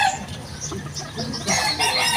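Backyard chickens cluck and a rooster crows, close by, with several birds overlapping in a steady barnyard chorus that grows louder toward the end.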